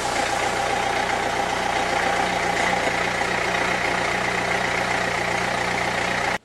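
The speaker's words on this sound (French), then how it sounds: "on va pouvoir redémarrer le moteur. Donc voilà, un redémarrage en live" A Renault Clio 2 phase 2 engine runs steadily just after restarting following a timing belt change, a loud, continuous close-up mechanical drone that cuts off abruptly at the end.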